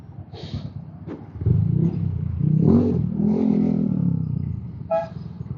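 A motorcycle engine revs up close, a low throaty roar rising and holding for a few seconds with a brief sharp tick at the start and a short high blip near the end.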